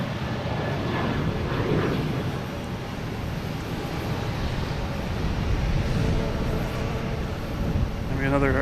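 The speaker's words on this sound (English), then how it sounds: "Another Cape Air landing on 22 left." A Cape Air airplane lands on runway 22 left at Boston Logan Airport, heard as a steady low engine roar with wind rumble, moderately loud throughout and rising slightly near the end.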